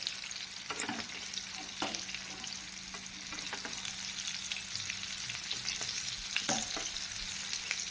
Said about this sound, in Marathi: दोन्ही बाजून व्यवस्थित खरपूस अशी फ्राय करून घेऊया